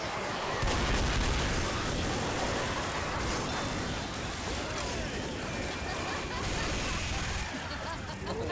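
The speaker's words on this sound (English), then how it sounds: "I'll get on the chain gun" A chain gun roars in Left 4 Dead, a loud, sustained wall of rapid firing that barely lets up, with players talking over it.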